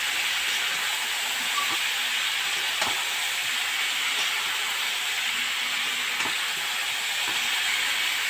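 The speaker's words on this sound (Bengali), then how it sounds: "সব দিয়ে একসঙ্গে এখন আমি কষিয়ে নেব।" Green chillies and spices sautéing in a pan give off a steady, loud hiss and sizzle, with a few faint clicks of stirring scattered through it.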